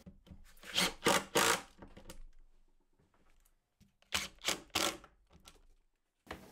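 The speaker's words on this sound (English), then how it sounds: "I can get a bit put in the driver and install them in no time" A power driver sets threaded inserts into pallet wood in two clusters of short whirring bursts near the start and again later, separated by quiet handling sounds, close and fairly loud.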